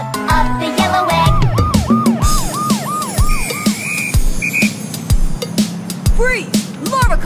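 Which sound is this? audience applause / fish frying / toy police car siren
toy police car siren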